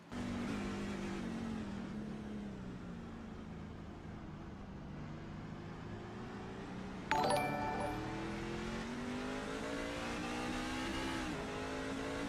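Onboard engine of a race truck in the iRacing Truck Series at Sonoma, a loud, steady drone that rises and falls with the gears, with a sudden sharp shift or bump partway through.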